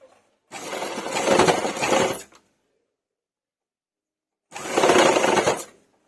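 A sewing machine stitching piping along the back of a blouse, two loud close bursts of rapid mechanical running, each about two seconds, separated by silence.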